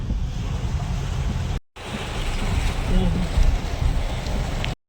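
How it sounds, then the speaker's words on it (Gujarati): Heavy rain pours over a flooded street in Mumbai, a dense rushing wash of water and wind buffeting the microphone, loud and continuous apart from a brief cut, and a voice is faintly audible beneath it. "તો મિત્રો અત્યારે ફૂલ વરસાદ થઈ ગયો છે."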